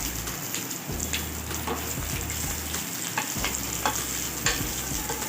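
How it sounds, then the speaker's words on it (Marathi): Sliced chillies frying in hot oil for curd chilli in a home kitchen, a steady close crackling sizzle with scattered pops and occasional stirring scrapes throughout. "आपण मिरचीचे काप तेलात सोडून आपल्याला फ्राय करून घ्यायच्या"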